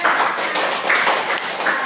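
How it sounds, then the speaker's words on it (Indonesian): Classroom audience, likely schoolchildren in a third-grade lesson, clapping together in a steady, fairly loud wash of claps with no talking over it. "Tepuk tangan buat Mbak Isna."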